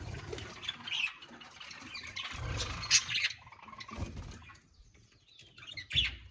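Pet birds in an outdoor enclosure chirp and squawk in scattered bursts, with rustling and brief wing flaps between calls, fairly close and busy throughout.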